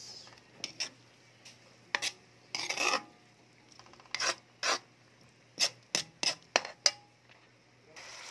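Shrimp and squid in butter and garlic are stirred in a pan, making a series of short, close scraping and rasping strokes at an uneven rhythm. Quiet pauses fall between the strokes, and no one speaks.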